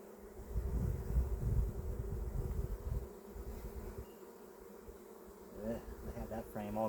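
Honeybees buzz around an opened hive during a first spring inspection, a continuous close droning hum with some louder passes near the microphone and brief clicking from handling equipment toward the end.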